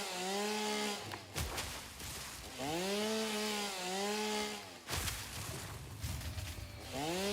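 A chainsaw in the video game Satisfactory cuts trees, its motor revving up and down in repeated bursts with brief pauses between cuts, loud and close with no talking.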